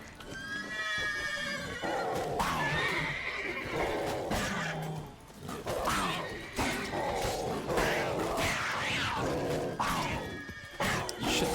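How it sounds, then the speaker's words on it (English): A horse in The Witcher 3 video game neighs and whinnies repeatedly, loud and close, in agitated bursts mixed with snorts and clip-clopping hooves throughout. "Are you attacking Roach?"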